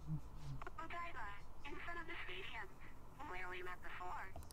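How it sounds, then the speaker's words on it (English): A garbled, breaking-up phone call during a Persona 5 Royal cutscene, a distorted voice cutting in and out through a poor signal with warbling, tinny bursts. "Oh my god, what is that phone signal?"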